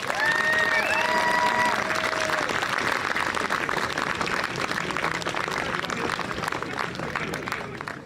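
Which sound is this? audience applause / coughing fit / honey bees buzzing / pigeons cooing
audience applause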